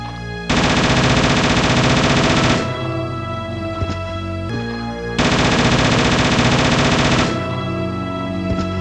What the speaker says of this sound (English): there's the FN Minimi for you guys